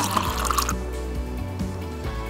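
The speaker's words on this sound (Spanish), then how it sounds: "Ahora vamos a echar poquito a poquito el agua." Water is poured slowly into a homemade artificial snow mix: a short splashing trickle at the start, then fading wet drips and small liquid sounds, close and moderately loud, with no talking.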